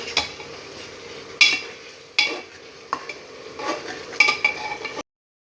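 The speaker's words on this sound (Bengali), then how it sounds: "চাল দেওয়া হয়ে গিয়েছে, নাড়া দিচ্ছি আমি" A spoon stirs rice in a pot while cooking khichuri, scraping and sizzling faintly with several sharp clinks of utensil against the pot over a steady low frying hiss.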